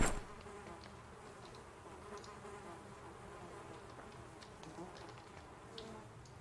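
Flies buzz steadily around a body in the video game Project Zomboid, a dense continuous insect drone that stays fairly quiet and even throughout.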